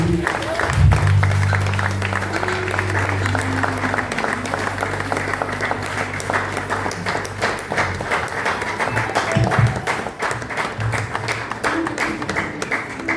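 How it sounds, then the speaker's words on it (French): A church congregation at a French-language worship service breaks into loud, sustained applause with crowd noise throughout, over a steady low musical drone. "Est-ce qu'on peut acclamer très fort le Seigneur Jésus?"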